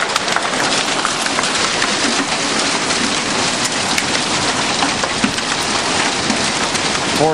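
Hail pelts down on a farm during a June hail storm, a dense, steady, close clatter of countless small impacts with no talking over it.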